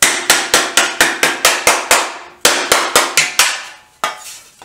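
Sharp, loud hammer blows on a metal part of a Triumph 500 motorcycle, struck in a steady rapid rhythm of about a dozen close hits with a brief pause, then a few more, each ringing briefly.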